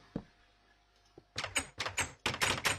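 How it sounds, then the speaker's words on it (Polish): A door opens in the video game Minecraft, modded YogCraft: a couple of soft early thuds, then a run of fast, bright clattering clicks, fairly close, with no one talking. "Dziwny dźwięk był tych drzwi chyba."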